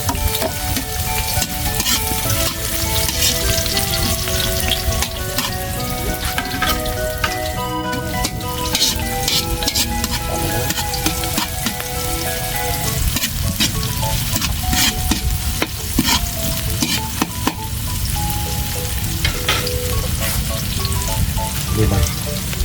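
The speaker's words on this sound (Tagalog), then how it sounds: "Ito tayo gisa. Gisa tayo bawang." Garlic and onion sautéing in a pan give a loud, continuous sizzling hiss with frequent stirring clatter throughout, close up, and background music playing underneath.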